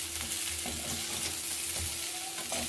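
Masoor dal fritters sizzling in hot oil, a steady close crackle with small pops and bubbling throughout, no voices.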